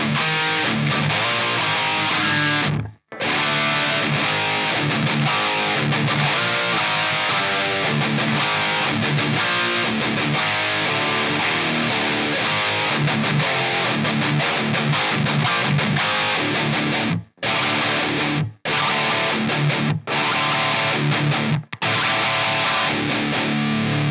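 Heavily distorted electric guitar riffs play loud and continuously through an Ampworx V550 amp, broken by a few abrupt brief stops before resuming.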